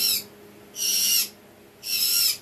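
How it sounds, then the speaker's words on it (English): A pet bird squawks loudly in three harsh, drawn-out bursts spaced about a second apart, with quiet room tone between them and no talking. "I can see I'm going to have to do a lot of editing to get this squawking crazy bird out of the video"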